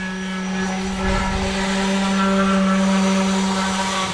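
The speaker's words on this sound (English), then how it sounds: "we moved on and did a more detailed sand of the keel with our random orbital sander." Random orbital sander working on a sailboat's lead keel, a loud, steady, close motor whine with a constant droning tone and a slight surge partway through, heard alone.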